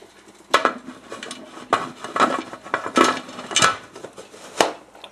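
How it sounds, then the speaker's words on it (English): Metal clanks and clinks of a pressure canner lid being set and handled on a canner of boiling water while canning venison, several sharp knocks spread across a few seconds, close by with no talking. "Then we're going to put the lid on."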